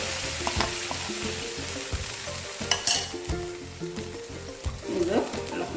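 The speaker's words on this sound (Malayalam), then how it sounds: "ഈ അരപ്പിൻ്റെ പച്ചച്ചുവ മാറുന്നത് വരെ നമ്മൾ ഇളക്കണം" Ground masala gravy for mutton curry sizzling in a pan while being stirred, with rhythmic scraping strokes and occasional utensil clinks, close and clear.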